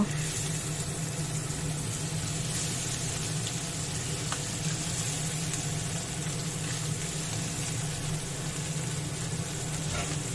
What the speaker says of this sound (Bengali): এখানে তেল গরম করতে দিয়েছিলাম, এবার মাছগুলো আমি ভেজে নেব।